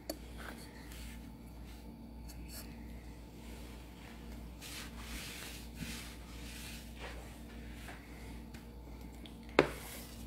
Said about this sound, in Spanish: Con una cuchara ahorita rompemos uno